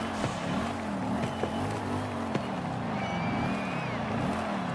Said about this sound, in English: Sounds like a Lexus V8.